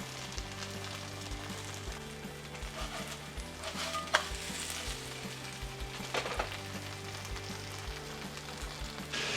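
Korean pancake frying in butter, a steady close sizzle and crackle running throughout with faint hiss and occasional pops, no talking.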